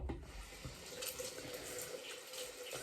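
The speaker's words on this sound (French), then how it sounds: "je vais me rincer la main pour faire le deuxième bidon" A hand rinsed under a running tap to wash off a greasy makeup-remover balm: a steady, close splash and hiss of water with faint shifting as the hand moves, and no talking.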